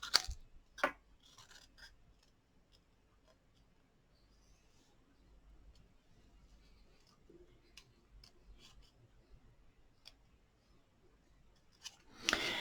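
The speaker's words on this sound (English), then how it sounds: "Okay, so I'll just cut these out." Scissors fussy cutting designer series paper for a handmade card, heard as sparse, faint snips and paper rustles in a quiet room, with a couple of louder clicks near the start and end.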